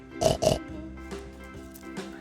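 Two loud grunting oinks from a pig up close, followed by softer snorts over a low steady hum.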